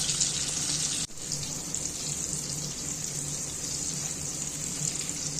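Eggs fry lightly in a pan with salt, turmeric and red chili powder, making a steady, hissing sizzle that carries on without a break apart from one brief dip near the start, with no voices.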